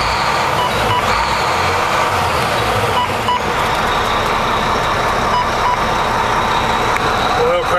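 Engine of a 2008 Volvo VNL64T670 semi truck running and revving, a loud, dense, continuous diesel roar close by with steady rumble throughout.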